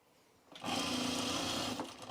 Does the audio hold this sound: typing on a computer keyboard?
no